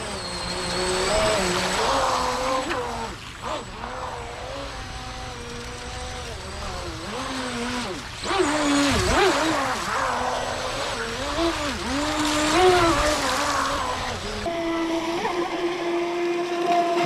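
A Rage RC Black Marlin EX brushless RC boat whines across the water at speed, its motor pitch wavering up and down as it turns and planes, with spray hiss and occasional voices nearby.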